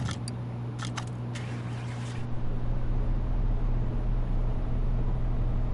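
A rebuilt car engine fitted with a new battery and oil starts up in Car Mechanic Simulator. A few short clicks come first, then a steady low idle rumble that runs on alone.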